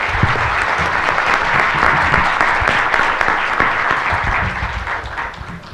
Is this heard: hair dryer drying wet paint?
no